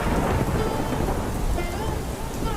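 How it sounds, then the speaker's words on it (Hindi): A heavy rainstorm with rolling thunder: dense, continuous rain noise and a deep rumble filling the whole stretch, loud and steady with no voices. "बारिश और तेज हो गई थी। दूर कहीं बिजली भी कड़की।"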